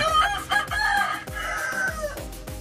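Backyard chickens in a coop, hens clucking while a rooster crows loudly and close by, with dense overlapping calls and no talking.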